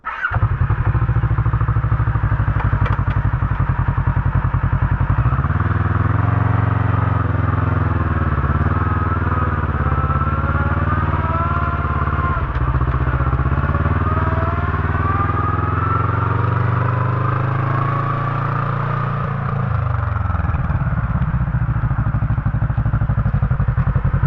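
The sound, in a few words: side-by-side transmission gear whine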